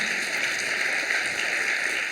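An audience at a festival event applauds the organizing teams in a steady, dense wash of clapping that holds at an even level throughout, with no voices standing out.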